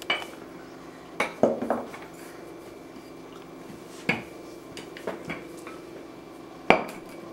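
Cookies on a metal cookie sheet being pricked, giving a few sharp clinks and taps at irregular intervals against a faint steady background.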